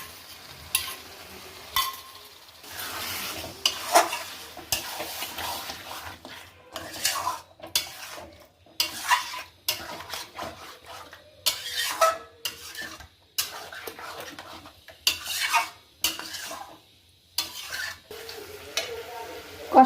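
Mutton with yogurt is sautéed and stirred in a pot, with repeated clattering scrapes and knocks of a spoon against metal in uneven bursts over a soft background sizzle, and brief pauses between strokes.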